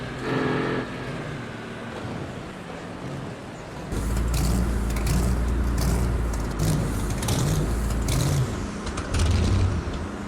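Monster truck engines roar and rev on a muddy, rain-slick racetrack at night, a steady loud rumble that swells with throttle bursts and surging acceleration from about four seconds on, with no talk.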